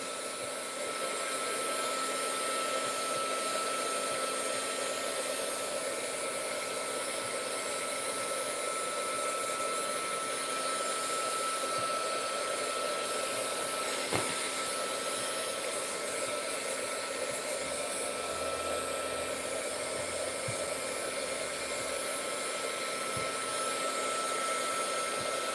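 A hair dryer blows steadily and loudly throughout, a constant whooshing airflow close by while hair is being dried on a ballerina-style look, with no talking.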